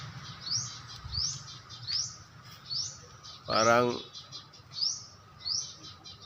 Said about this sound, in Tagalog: nakakita na siya ng ibon